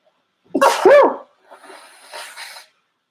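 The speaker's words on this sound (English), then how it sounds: "Oh my gosh, I'm gonna sneeze." One sharp, close sneeze bursts out, followed by a softer breathy exhale.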